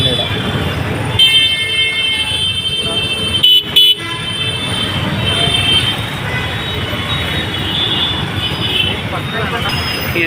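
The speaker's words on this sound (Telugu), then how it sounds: "ఫుల్ ట్రాఫిక్ జామ్ అవుతుంది ఇక్కడ." A road jammed with traffic: a continuous drone of engines and road noise, with short car and bus horn toots sounding over it and people talking nearby.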